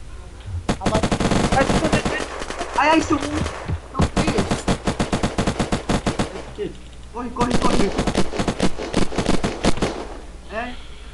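Unturned video game gunfire: rapid machine-gun bursts in three long volleys with short pauses, loud and close, while players shout and talk over the shooting.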